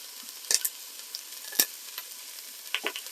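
Onions and potatoes frying in a pan, a soft continuous sizzle broken by a few sharp clinks and scrapes of a utensil stirring them.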